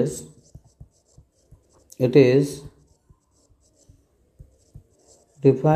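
Pen writing a definition by hand in a chemistry class on molarity, with scratchy strokes in short bursts between two stretches of a voice speaking.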